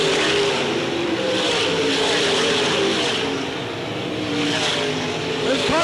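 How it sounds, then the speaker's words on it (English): Sprint cars race around Port Royal Speedway in 1986, loose on the track, their engines giving a loud continuous snarl that rises and falls as the pack passes, with faint crowd or announcer noise beneath. "Those cars are really loose on that racetrack, Randy."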